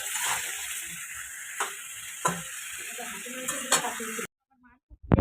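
Big fish sizzle and spit in hot oil in a home kitchen pan, a steady crackling hiss broken by a few louder pops, then cutting off abruptly into near silence with a couple of faint clinks.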